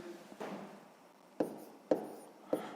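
A pen writes on paper while working a sixth-grade maths exercise, a soft close scratching followed by three short sharp taps spaced about half a second apart, faint and with no talking.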